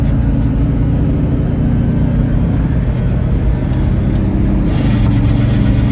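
A 1967 Pontiac GTO muscle car engine runs steadily with a loud, deep, rumbling drone up close, its pitch shifting slightly near the end as if revving.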